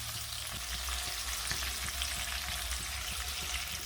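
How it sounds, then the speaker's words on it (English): Garlic paste sautéing in a pan, a steady close sizzle and hiss with faint stirring scrapes, no voices. "So we've added in our garlic paste now. You just want to saute it until it turns a light golden brown color."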